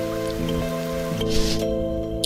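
Steady, soft rain patters in the My Sticker Book game, a continuous hiss beneath sustained game music tones. There is no talking over it.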